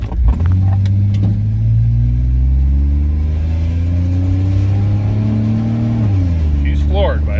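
LS-swapped truck engine held at full throttle, a loud steady roar that climbs slightly in pitch before dropping off near the end, with people talking over it.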